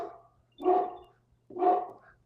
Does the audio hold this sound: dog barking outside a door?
yes